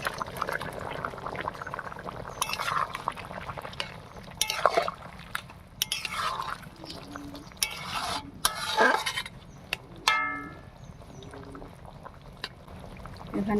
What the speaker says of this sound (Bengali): এবার ভেজে রাখা সয়াবিনটা দিয়ে দিচ্ছি।